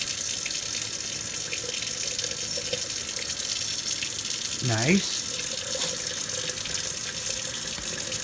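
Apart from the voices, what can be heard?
water poured out of a broccoli sprouting jar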